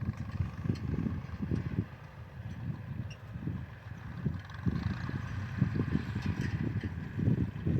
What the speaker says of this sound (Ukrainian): Тракторець бігає